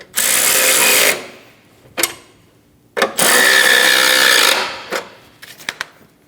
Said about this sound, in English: Snug down the tie downs.